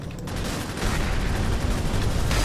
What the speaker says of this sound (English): I was too busy looking at the glorious explosion.